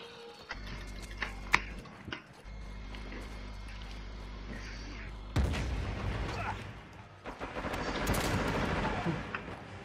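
Enemy gunfire in the shooter game Uncharted 4: scattered shots and bursts, near and far, over a low game rumble that swells into louder, busier firing in the second half.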